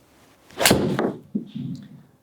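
A single sharp crack of a PING iDi driving iron striking a golf ball, followed by a short rattling thud, close and indoors.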